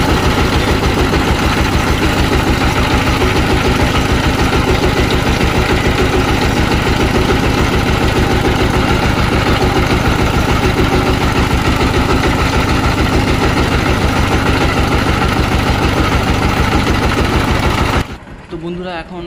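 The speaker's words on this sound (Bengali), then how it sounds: "এখন ইঞ্জিনটি ঠিকঠাকই চলছে, আর কোনো সমস্যা নেই" A Changfa 195 single-cylinder diesel engine runs close and loud with a rapid, even thumping beat after a fuel pump repair, holding steady before cutting off abruptly near the end.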